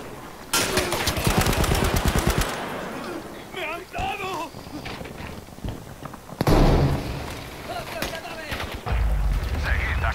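Explosive grenade blasts and bursts of gunfire from the World War II shooter Battlefield V hit loudly in several sharp clusters, with players talking between and over the explosions.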